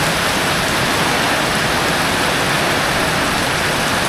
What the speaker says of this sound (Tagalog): Tuloy-tuloy pa yung lakas ng ulan, no?